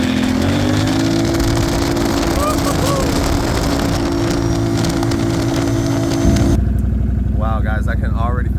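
A motorcycle fitted with a newly installed RJWC exhaust and tune revs loudly and continuously up close, its engine note rising and falling as it pulls away, with a brief shift in tone near the end.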